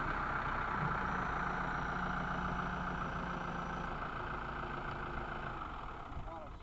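A Kubota M5 series tractor sits idling in neutral, its engine giving a steady, continuous mid-low drone that stays level throughout, with a faint higher whine and small shifts toward the end.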